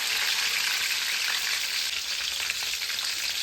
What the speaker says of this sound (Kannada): ಇವಾಗ ನಾನು ಆಯಿಲ್ ಹಾಕ್ತಾ ಇದ್ದೀನಿ ಇದಕ್ಕೆ ಸ್ವಲ್ಪ. ಇವಾಗ ನಾನು ಕರಿಬೇವು ಹಾಕ್ತಾ ಇದ್ದೀನಿ.